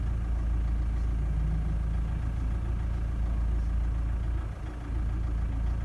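A diesel engine with a rough idle and a knocky rattle runs steadily and fairly quietly close by, a constant low rumble with a brief dip in level near the end.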